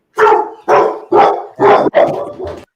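A dog barking at home, five loud, close, evenly spaced barks in quick succession with no talk over them.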